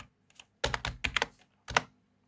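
Keystrokes from code being typed on a computer keyboard for an HTML, CSS and JavaScript app: short bursts of close, crisp clicks, a quick cluster of several keys, then a pause and one more burst, with no voices.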